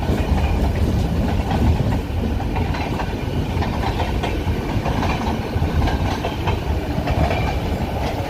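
Guntur–Vijayawada MEMU electric multiple unit train running on the branch line, heard from onboard as a steady loud rumble with continuous rolling wheel noise and faint rhythmic clatter throughout, with no talking.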